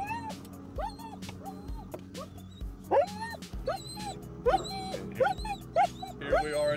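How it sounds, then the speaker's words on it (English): A dog gives repeated short whimpers and yips at close range, in several separate bursts spread through the clip, over a low steady background hum; no one talks. "It's the dog."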